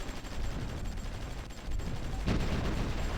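Distant, muffled gunfire from troops fighting in urban warfare in the strategy game Supreme Ruler Ultimate, a steady low rumble of shots with a sharper burst near the end and no talk.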